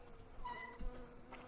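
Bees buzz in the Star Stable video game, a faint, thin insect drone that wavers briefly and softly with no talk over it.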